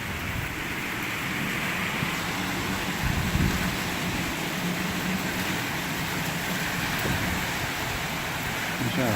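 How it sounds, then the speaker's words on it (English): Heavy rain pours during Hurricane Irma, a dense, loud, unbroken roar of downpour and wind that holds steady throughout, with no speech over it. "Heavy rain."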